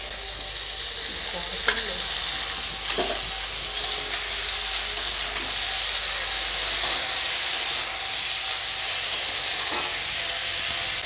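Malabar spinach stems and potatoes sizzling in hot oil in a pan, a loud continuous frying hiss with a few scattered utensil clicks throughout.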